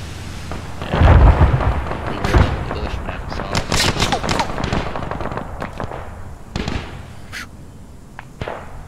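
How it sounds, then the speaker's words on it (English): Loud cracking bursts of gunfire and detonations in a World War II style military shooter game, an assault on Maisy Battery, with a heavy boom near the start and scattered sharp reports continuing under voices. "A weapon cooked off."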